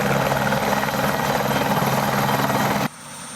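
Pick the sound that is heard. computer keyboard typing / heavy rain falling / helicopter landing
helicopter landing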